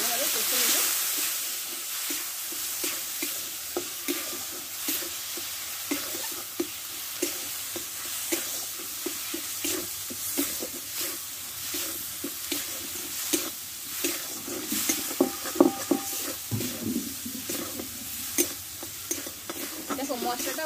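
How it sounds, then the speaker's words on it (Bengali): Spice paste (masala) with salt and a little water frying and being stirred in a pan, a continuous bright sizzle with regular spatula taps and scrapes, no talk. "এখানে লবণ দিয়ে দেবো স্বাদ মতো, একটু লাগবে, অল্প একটু জল দিয়ে মশলাটা ভালোভাবে কষে নেব"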